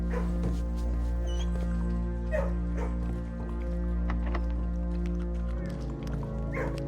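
A dog in the video game Blue Prince being petted, giving a few short barks and whimpering yips over a steady droning game music bed, with someone talking intermittently.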